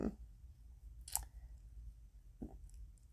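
Scissors cut into a paper mat with a few faint, separate snips and clicks, spaced apart in a quiet room.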